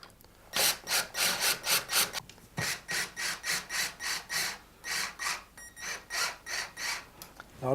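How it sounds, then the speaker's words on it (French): Screws being driven into radiator mounting brackets fixed to a wall during an electric radiator installation, a run of short rhythmic grinding bursts repeating steadily, close and fairly loud, with no talk. "je visse juste pour les faire prendre les vis de blocage du radiateur sur les supports"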